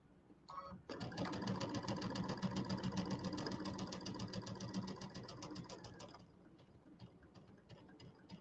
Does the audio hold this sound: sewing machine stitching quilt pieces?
yes